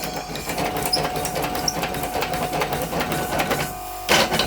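Locomobile steam engine model running on compressed air, valve timing slightly off and showing wear: a steady fast mechanical chuffing and clatter, close and continuous, with a brief pause and hiss near the end.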